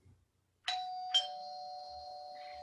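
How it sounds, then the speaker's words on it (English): A doorbell rings with two clear chimes, a ding followed by a dong, then a sustained ringing tone that lingers near and fairly quiet with no voices. "and then rings the bell."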